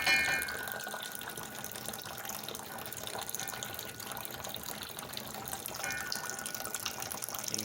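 Water drains from a water heater and carries loosened sediment, making a steady, close rushing and splashing flow that runs without a break and gets slightly stronger near the end.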